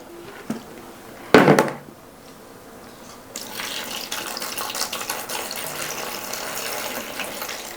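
Water poured into a plant pot filled with leca clay balls, a brief splash followed by a steady close pouring and trickling that runs several seconds.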